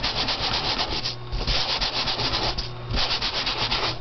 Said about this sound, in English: I'm just going to lightly sand the back of this paper because I want to break the tension in the paper